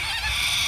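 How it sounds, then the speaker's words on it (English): A flock of white-crested cockatoos shrieks and calls all at once near a beach foreshore, a loud, harsh, continuous chorus of overlapping screeches. "These are white-crested cockatoos, and they're just going crazy."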